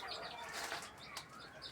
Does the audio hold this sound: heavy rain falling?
no